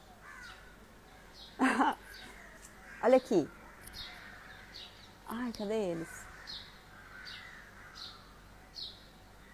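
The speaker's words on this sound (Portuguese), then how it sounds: "Tá vendo esse casalzinho de corvo ali?" A pair of crows caw several times from nearby, loud throaty calls in short bursts spaced a second or two apart, while someone talks quietly between them.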